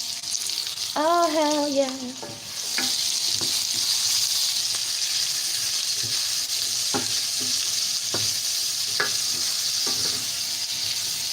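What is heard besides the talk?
browning meat in pan after onions and garlic for chilli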